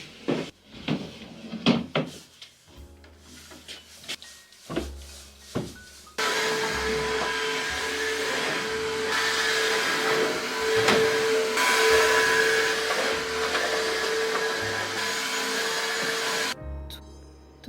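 A vacuum cleaner runs over an office floor, starting with a few knocks and clatters, then a loud steady whine with an airy roar that holds for about ten seconds before abruptly shutting off.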